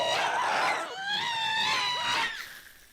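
Minecraft ghasts at a ghast farm let out loud, shrill wailing screams, several overlapping cries in succession before fading out.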